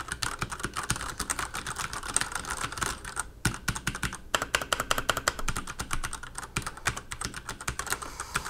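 Rapid, continuous clacking of a Zalman ZM-K700M mechanical gaming keyboard being typed on up close, a busy rhythmic patter with a brief pause partway through.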